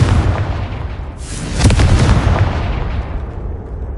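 In the Hogwarts Legacy video game, a Confringo fire spell explodes with a loud, close, rumbling blast that swells and then decays into a lingering low roar, with no voices.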